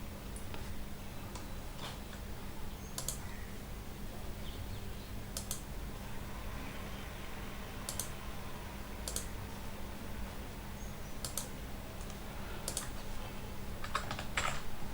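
Python code is typed on a computer keyboard in sparse, scattered key clicks and short bursts, quiet and close, over a low constant hum with no talking.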